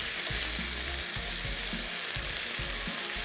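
Lean beef mince sizzles loudly and steadily as it is browned in a pan, with a dull stirring thump roughly every second beneath the continuous frying hiss.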